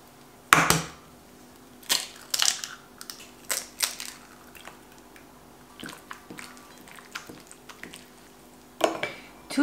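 Butter and eggs being mixed in a bowl for orange cookies, heard as scattered clinks and soft squishing taps of the utensil against the bowl, irregular and close, with no talking.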